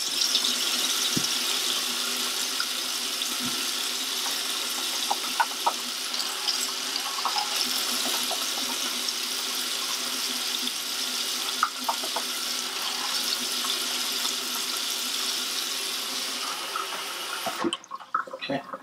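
Tap water runs steadily into a container while water is measured out for mixing a Unicolor C-41 film developing kit, a continuous close hiss with faint rattles and clinks, cutting off near the end.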